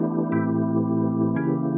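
A sustained organ-like chord runs through a software rotary speaker effect with the rotation braked. The tone is steady with little wobble, and the chord changes once partway through, with no voices.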